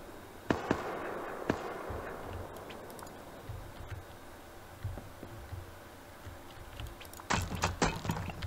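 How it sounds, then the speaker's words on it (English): Gunfire in the video game Rust, sharp cracking shots scattered at distance, a couple near the start and a denser burst of rapid pops toward the end, over a faint ambient wash. "Is that you shooting?"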